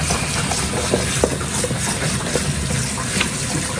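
Cold water runs into a container to cool freshly cooked squid rings, a steady close splashing flow with small sloshes and clinks on top.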